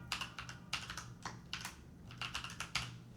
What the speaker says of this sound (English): we're gonna type this raw name after the next and final semicolon